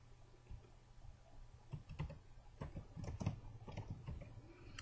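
Keys tapped on a computer keyboard while typing into a field, a quiet irregular run of soft clicks that grows denser toward the end, heard alone over a low background hum.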